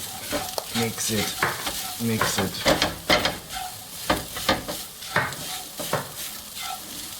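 Raisins being stirred into apple strudel filling in a pan, with repeated scraping strokes at a steady rhythm over a faint sizzle, close and moderately loud.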